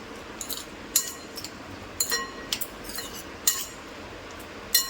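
A metal utensil clinks and scrapes against a bowl while tossing a salad of cucumber, chilli, tomato, onion, lemon juice and kasundi mustard, giving irregular sharp taps over a soft background hiss with no talking.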